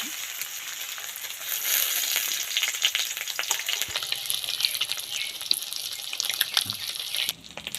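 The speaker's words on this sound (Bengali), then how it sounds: "ডিমগুলো ভেজে নেব সোজা পিঠটা আগে ভেজে নেব" Eggs fry in oil in a wok-style pan, a dense steady crackle and sizzle close by with occasional spatula taps, cutting off abruptly near the end; no voices.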